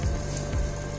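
Agar agar melted into tender coconut water boils steadily in a pan, giving a continuous close bubbling and sizzling hiss with no talk over it.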